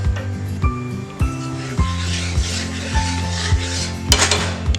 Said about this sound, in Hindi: धीरे धीरे हमें ये चाशनी बस चलाते हुए मिलाते जाना है।